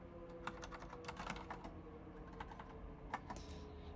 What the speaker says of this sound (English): I'm still mistyping on this fucking keyboard.